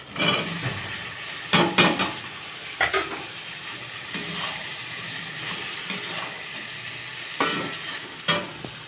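Spice masala with salt and turmeric is stirred and fried in a pan, a steady sizzle broken by repeated scraping strokes of a spoon against the metal, close and clear with no talk.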